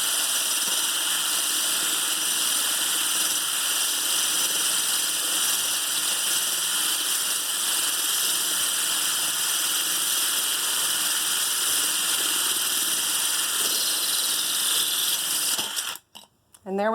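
A drill bit grinds through a thick glass wine bottle with water added, a continuous harsh whining drone that holds steady for most of the stretch before cutting out abruptly near the end.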